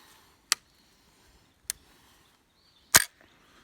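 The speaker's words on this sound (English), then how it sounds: "going to take off chips of steel, and the friction is going to be so great, it's actually going to start the steel on fire" A flintlock musket's flint strikes steel three times, each a sharp, isolated snap with a sudden attack, spaced about a second apart in a quiet setting, the last strike loudest.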